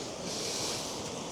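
Water poured out of a container during a canoe trip on the River Stour near Cattawade, a loud, close, steady gushing splash that runs without a break and has no voices over it.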